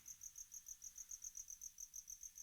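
A single cricket chirps indoors up near a roof, a high, steady pulsing trill repeating in rapid even bursts, faint and alone without voices.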